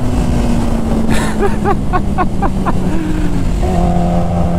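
Kawasaki Ninja H2 motorcycle tuned to about 300 wheel horsepower, pulling hard at very high speed: a loud, steady engine drone with rising rev sweeps and gear changes, heavy wind rush throughout.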